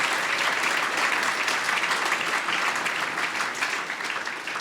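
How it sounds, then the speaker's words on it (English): Crowd at a book launch keeps clapping for the author of The Kenneth Williams Companion, sustained close applause that begins to thin slightly toward the end. "I'd ask him to take a stand and take a round of applause."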